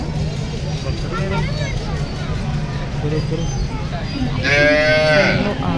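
Deoni cattle lowing nearby at a fair, with a long moo rising near the end, over a low engine rumble and background voices.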